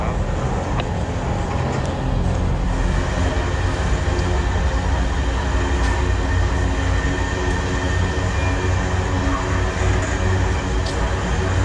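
Helper locomotive coupling onto the tail of a train in a rail yard at km 575: a steady, loud rumble of rail equipment and engine runs throughout, with faint metallic squeals and clanks, and no talk.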